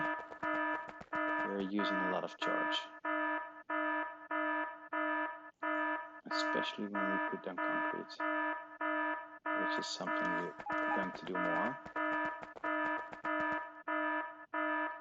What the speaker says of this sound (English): I'm sorry about the siren in the background